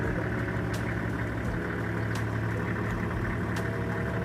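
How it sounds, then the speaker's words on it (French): Safari vehicle in Tanzania idles with a faint, steady low rumble, continuous and without talk, broken only by a few brief faint clicks. "il faut couper le moteur, ça va les effrayer"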